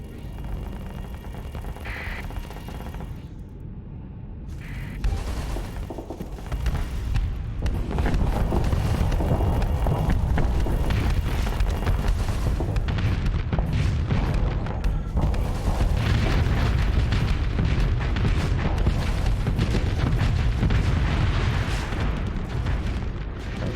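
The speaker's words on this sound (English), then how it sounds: "I do like this auto cannon." Sustained, dense roar of autocannon fire and explosions in the space combat game Starsector, a loud, continuous rumbling barrage that builds after a quieter start and keeps up without a break.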